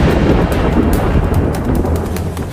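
A thunderclap in an animated supernatural drama, loud rumbling thunder with rain-like noise filling the whole stretch, continuous and close, with no voices.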